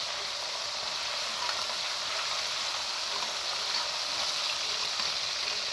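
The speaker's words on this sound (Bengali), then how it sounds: "তেলের শব্দে কিছু শোনা যায় না।" Hilsa fish head and tail fry in hot oil with a loud, dense, unbroken sizzle and hiss that holds steady from start to finish, close and alone.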